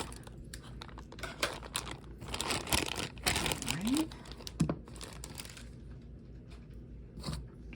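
Plastic toy packaging for a Little Mermaid doll is cut and crinkled open at close range, with scattered crinkles, snips and tearing under low talk, and two brief squeaky scrapes midway.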